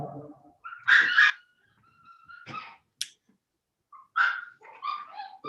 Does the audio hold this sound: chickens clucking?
no